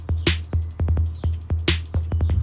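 A trap-influenced footwork beat loops with a deep booming bass, sharp kicks, crisp rapid closed hi-hats and two bright snare-like hits, played alone at a brisk tempo.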